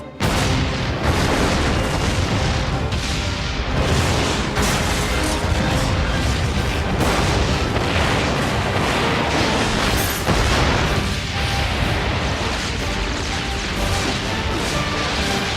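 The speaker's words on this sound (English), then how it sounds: "Gotham City exploding." Animated explosions in Gotham City from a Batman series: dense, continuous loud booms and crashes layered over one another for the whole stretch, with no quiet gaps.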